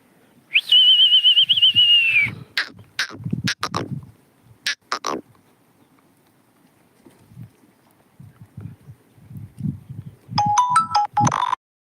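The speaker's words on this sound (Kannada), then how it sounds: "ಇದ್ರಾಗ ಯಾವುದೊಂದು ಫೋನ್ ಬಂತು ಸ್ನೇಹಿತರೆ" A mobile phone ringtone plays a steady electronic tone for about two seconds, followed by scattered knocks and handling noises, and a brief second burst of ringing tones near the end.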